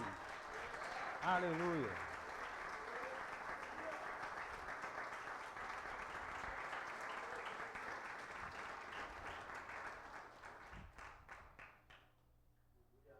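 A church congregation at a Sunday communion service applauds, a sustained, soft, fairly distant wash of clapping that fades toward the end, with a voice calling out over it.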